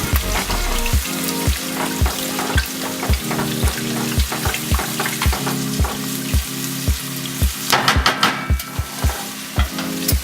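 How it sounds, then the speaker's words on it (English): Ground beef browning in a pan for a bolognese sauce, with a steady loud sizzle and fry punctuated by regular rhythmic scrapes and taps of a utensil stirring the meat, close up and without talk. "I'm going to keep browning the beef, just making sure all the pink that's left gets some pan time."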